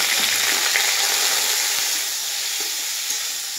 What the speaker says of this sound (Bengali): এইভাবে এই যে তেল গরম হয়ে আছে, আমি মাংসটাকে ভাজবো।